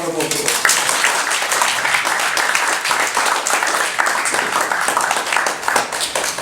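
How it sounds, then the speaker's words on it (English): Audience applause welcoming a professor to the podium for a lecture, dense sustained clapping from a large crowd filling the room at steady loudness throughout. "let's welcome Professor Fouser with a big round of applause."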